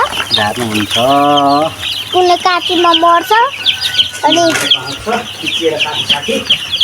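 Chicks in a poultry pen chirp and cluck in quick, high, overlapping calls, close by, with someone talking over them.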